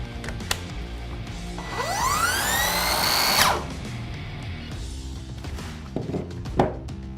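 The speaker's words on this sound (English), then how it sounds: "when I lifted off the trigger, the saw almost immediately stopped" An Evolution R185CMS-Li cordless compound mitre saw whines up to speed, runs loudly for about a second and a half, then its electronic blade brake cuts the sound off abruptly, followed by a few quieter clicks and knocks.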